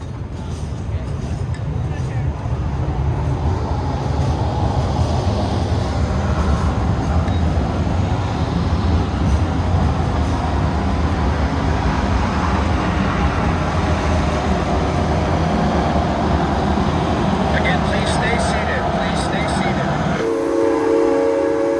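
A geared steam locomotive of the Sugar Pine Railroad running, a loud continuous chuffing rumble with hissing steam, a whistle-like tone near the end and people talking around it.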